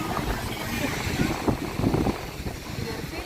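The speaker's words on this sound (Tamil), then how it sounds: "நல்லா காற்று அடிக்குது. கடலோட காற்று" Strong sea wind gusts across a beach at Cuddalore, buffeting the microphone in a continuous rumbling roar, with surf faintly underneath and swells of louder gusts midway.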